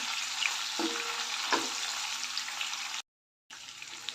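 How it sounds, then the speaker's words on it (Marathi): Paneer fries in hot oil until golden brown, giving a loud, continuous hiss of sizzling close by with a couple of faint clicks and a short break of silence partway through. "पनीर थोडेसे गोल्डन ब्राऊन होईपर्यंत तळून घेऊया"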